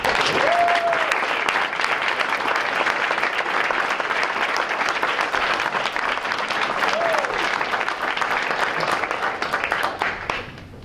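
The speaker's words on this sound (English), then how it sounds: "let's give them a round of applause" An audience at a school board meeting breaks into sustained applause for recognized students, dense clapping at full strength that holds for about ten seconds before tapering slightly at the end.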